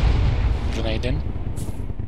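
A heavy, rumbling boom from a grenade blast in Arma 3, loud and close, sustained low-end roar with a voice speaking over it.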